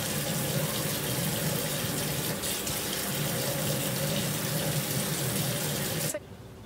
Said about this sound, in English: I'm just rinsing it with water real quick